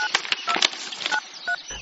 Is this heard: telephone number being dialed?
yes